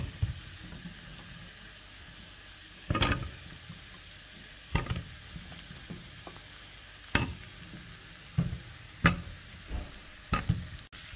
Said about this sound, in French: Là, maintenant, je rajoute mes pommes de terre